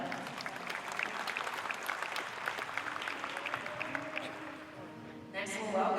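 Audience applause fills a hall at the 2014 All-American Dairy Show as a supreme champion Ayrshire cow is honored, a steady dense clapping that holds for several seconds, with a voice running faintly underneath.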